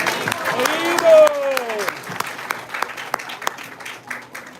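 Audience clapping at a children's annual day celebration, a steady wash of many hands that carries through the whole stretch with some tonal background sound early on and fades slightly toward the end.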